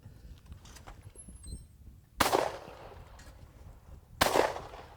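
Two sharp, loud shotgun blasts about two seconds apart, fired at thrown clay targets on an outdoor shooting course at Hyatt Farms, each with a brief trailing echo over faint background noise.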